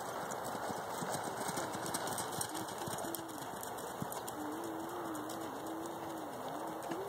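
A ten-year-old Paso Fino mare moves in a gaited lope, her hooves making a steady, close clip-clop rhythm while pigeons coo softly in the background.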